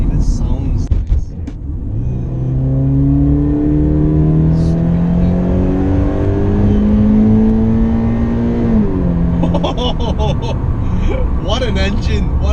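A 2013 Toyota 86 engine revving while driving on the road: a steady droning note that climbs in pitch, dips sharply at a gear change, then settles lower with faint cabin noises.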